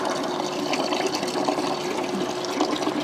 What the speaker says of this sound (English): what's great about the sound of water is it drowns out traffic noise